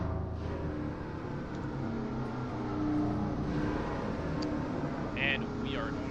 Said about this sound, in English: There is the safety car pulling up.